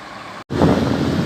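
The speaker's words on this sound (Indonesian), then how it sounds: "ini dia bus pariwisata DBD Wisata" Roadside rumble of a tourist bus travelling a straight stretch of the Trans-Sumatra highway, a broad roaring drone with wind buffeting, briefly cut off before resuming loud and close.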